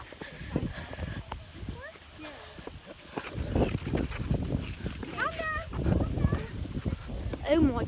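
A dog on a hiking trail barks and whimpers excitedly in short bursts while close by, mixed with footsteps and people talking over it.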